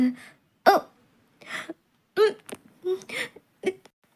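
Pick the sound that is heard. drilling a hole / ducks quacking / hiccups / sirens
hiccups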